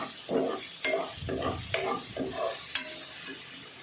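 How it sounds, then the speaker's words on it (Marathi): Drumstick leaves are stirred into a pan of cooking mung dal, giving a series of scraping, sizzling strokes in a steady rhythm, close and moderately loud. "आता भाजी घालते मी"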